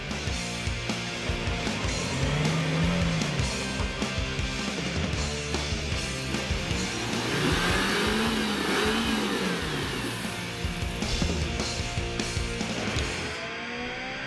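A Suzuki Jimny 4x4 engine revs hard and steadily as the vehicle loses traction on top of a rut at a 4x4 club challenge. The pitch climbs and falls in repeated surges, loud and close, with no talk.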